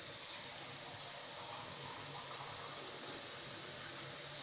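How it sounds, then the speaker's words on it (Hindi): Two glasses of water poured into a cooking pot while making biryani, heard as a continuous, even rushing gush with no breaks, fairly soft and alone. "अब इसमें डाल देते हैं 2 गिलास पानी"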